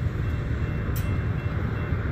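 A steady low rumble of a Union Pacific intermodal freight train rolling by a railroad crossing in Arizona at moderate distance, continuous with no voices.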